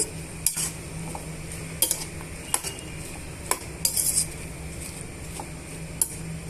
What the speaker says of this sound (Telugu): ఈ టమాటా ముక్కల్లో ఉల్లిపాయ ముక్కల్లో వేసుకొని వేయించేసుకోవాలి